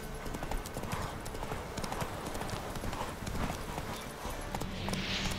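Horse hooves gallop in The Witcher 3 video game, a rapid, continuous clip-clop rhythm close and loud across the whole stretch, with occasional game sounds in the background.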